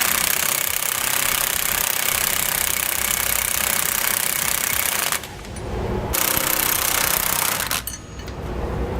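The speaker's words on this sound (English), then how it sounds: "Now we use a 15/16 wrench and socket to tighten these up." Bracket bolts for a Roadmaster rear anti-sway bar on a 2015 Thor are run down with a 15/16 socket, a loud, steady mechanical rattling hammer heard close that briefly drops away twice before resuming.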